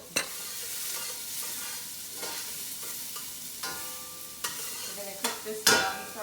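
Garlic and scallions fry in about three tablespoons of olive oil over medium-high heat, a steady close sizzle broken by sharp scraping and clattering stirs, with no talking.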